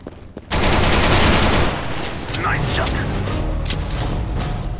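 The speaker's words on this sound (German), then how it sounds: "Ist eine vollautomatische Pistole." Fully automatic pistol fire in the video game CS:GO, a dense rapid burst of loud shots followed by continued crackling gunfire and game effects.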